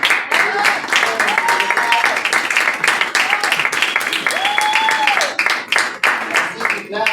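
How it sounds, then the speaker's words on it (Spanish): A church congregation bursts into loud, sustained applause, dense clapping that continues throughout while speech and vocal cheers rise over it. "un fuerte aplauso"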